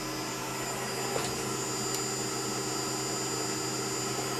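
A Tormach PCNC mill spindle runs in high mode at 2,700 rpm while machining a steel shoulder bolt fixture, giving off a steady, loud, unbroken mechanical whine with a constant hum underneath and no talking.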